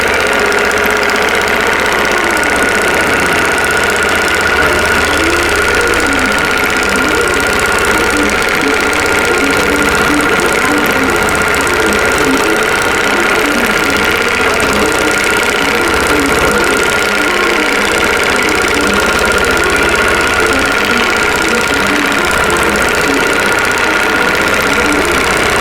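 An embroidery sewing machine stitches a Christmas stocking design in 12 weight thread, a fast, even mechanical hum and rattle running loud and continuous throughout, with no pauses.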